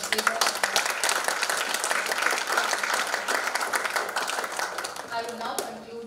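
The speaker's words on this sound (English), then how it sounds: "I think he deserves a big round of applause." An audience at a Goa engineering college annual day applauds a guest, Mr. Vijay Hegde, with dense continuous clapping throughout, moderately loud and steady.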